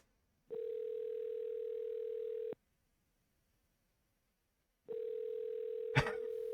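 Through a phone, a steady ringback tone sounds for two seconds, a long silence follows, then the tone repeats as a brief clatter breaks in, the call left unanswered.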